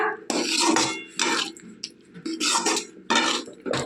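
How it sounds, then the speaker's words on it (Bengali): Paneer stirred with butter in a pan, heard as bursts of metal spoon scraping and clinking against the pan in irregular strokes, close up and without talk. "আমি অল্প পরিমাণে বাটার দিয়ে দিয়েছি একটু নাড়াচাড়া করে নেব পনিরটা"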